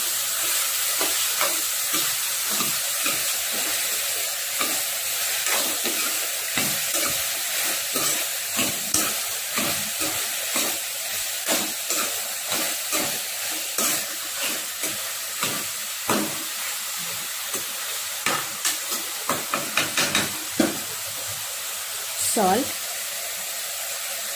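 Ridge gourd curry is stirred in a pan, with a continuous hissing sizzle and a long run of irregular spoon scrapes and knocks that grow busier toward the end.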